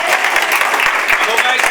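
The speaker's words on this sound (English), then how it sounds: "So give yourselves a big round of applause to start with." A seminar audience gives a round of applause, a loud, dense spread of many hands clapping with a few sharper individual claps poking through the steady wash.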